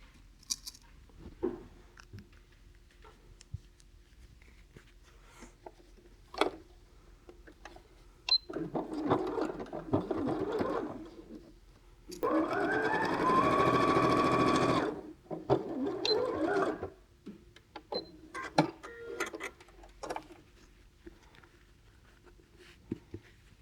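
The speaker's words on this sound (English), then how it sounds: "you want to sew the 2 top points together so the petal colours are touching" A sewing machine stitches quilt block petal pieces. A loud, steady whirring run of about three seconds stands out among quieter short bursts of stitching, with soft handling clicks and rustles between them.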